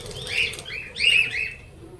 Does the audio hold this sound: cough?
no